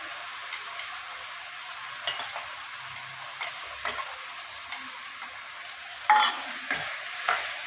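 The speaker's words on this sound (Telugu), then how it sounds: "బీరకాయ కానీ, రొయ్యలు కానీ, టమాటాలు కానీ ఫ్రై చేసుకోండి కొంచెం ఆయిల్లో" Prawns, ridge gourd and tomatoes fry in a little oil in a village kitchen, giving a soft steady hiss punctuated by several sharp spatula taps and stirring scrapes, louder near the end.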